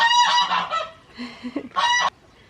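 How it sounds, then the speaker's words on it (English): Homestead goose honking nearby, loud and alone, in a couple of bursts of harsh nasal calls separated by a brief pause. "Noisy goose."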